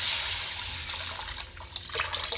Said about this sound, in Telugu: ఇప్పుడు మనం దీంట్లోనే మనం ఈ చింతపండు రసం మొత్తము ఇందులో వేసేసుకోవాలి